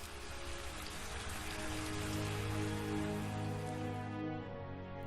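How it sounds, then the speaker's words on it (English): A steady rain sound effect, a dense, even patter of drops hissing without a break for several seconds and fading slightly near the end, with no voices. "The human will command a cloud to rain,"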